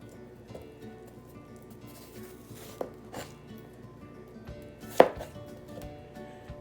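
Apple pieces being peeled and cut for raw apple cider vinegar, heard as soft, close knife scrapes and light chopping taps on a board, with one sharper knock near the end.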